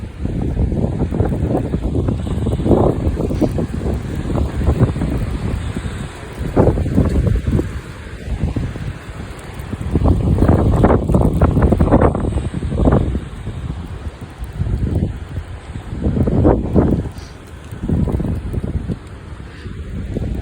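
Strong gusty wind in Utah roars across the microphone in repeated loud surges, buffeting and rumbling in waves with brief lulls between gusts and no voices.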